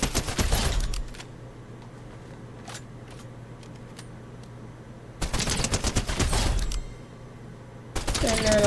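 Automatic gunfire from a test-fired weapon in Fortnite, with a loud burst at the start, a second sustained burst in the middle and another at the end, separated by quieter stretches of faint distant shots.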